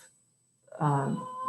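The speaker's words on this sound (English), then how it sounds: "apologies for my cat's discussion." A house cat gives a single clear meow, close to the microphone and alone after a brief quiet moment.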